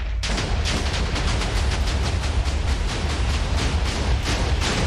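A long, loud rumbling barrage of blasts from TNT in Minecraft, played in VR in a space setting, with rapid crackling bursts rolling on steadily after a short quiet start.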